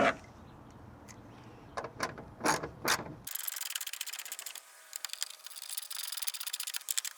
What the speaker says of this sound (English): now you just put the 8mm screws back in